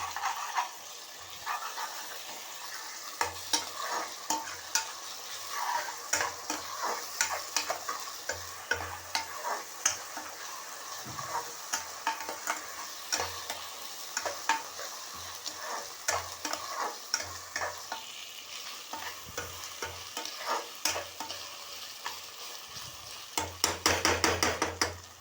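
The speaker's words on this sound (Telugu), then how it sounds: "దీన్ని మంచిగా కలుపుకోవాలి." Chicken curry masala stirred and frying in a pan, a steady sizzle with repeated clinks and scrapes of a spoon against the pan, close and moderately loud with no talk.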